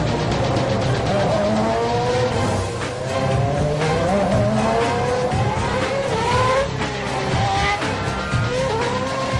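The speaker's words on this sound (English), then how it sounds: "Stepping into the car for the very first time, starting the engine for the very first lap." Formula 1 car engines roar and rev loudly, pitch rising and falling through gear changes, with several cars overlapping close by.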